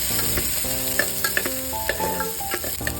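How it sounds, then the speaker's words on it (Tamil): Chopped onion and garlic sauté in hot ghee inside a pressure cooker, a bright continuous sizzle with light stirring scrapes, heard under background music. "நெய் சூடானதுக்கப்புறமா நம்ம கட் பண்ணி வச்சுருக்க வெங்காயத்தையும் பூண்டையும் சேர்த்துக்கோங்க. லைட்டாக வதக்கி விடுங்க."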